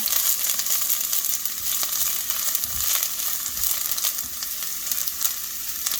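Shallots sizzling in hot oil in a pan for turkey chili, a loud, dense, continuous crackling hiss close up with no talking.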